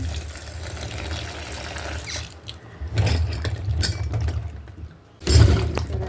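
Elephant foot yam, soaked in salt, is washed by hand in water, with uneven splashing and trickling in bursts, a brief quiet gap, then a louder splash near the end.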